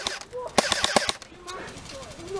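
Airsoft guns firing during an outdoor game at Gorebridge, a quick burst of several sharp, rapid cracks followed by a few scattered shots, with faint voices and birdsong in the background.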